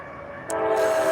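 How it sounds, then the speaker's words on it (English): A loud, steady rumble of a train passing nearby, growing heavier partway through with a brief high whistle-like tone, no voices. "I've got a train coming through"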